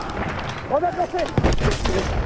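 Gunfire and a grenade blast in the Battlefield 1 video game, sharp bangs and booms in quick succession under a voice speaking during the action.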